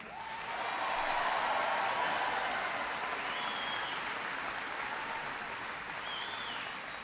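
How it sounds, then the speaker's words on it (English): Sustained applause fills a large town hall meeting crowd welcoming the Attorney General, steady and dense for several seconds, slightly tapering near the end, with no talk over it. "Please, a big round of applause for your Attorney General, Jerry Brown."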